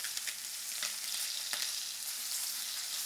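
Protein sears in a pan with a faint, even sizzle and occasional light crackles, no voices.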